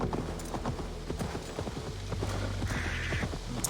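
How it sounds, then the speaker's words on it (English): Steady clip-clop of a horse's hooves trotting in Assassin's Creed Valhalla, a quick even rhythm close by with faint ambient sound beneath and no talk over it. "since I've taught my horse how to swim, I don't have to dismount to go across the river"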